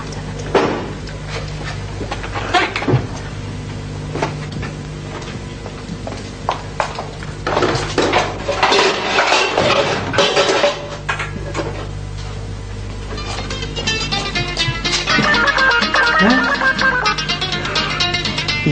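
Pots and pans fall in a home setting, giving a run of irregular metallic clatters, knocks and bangs that grow busier and brighter toward the end, close and loud, with no voices.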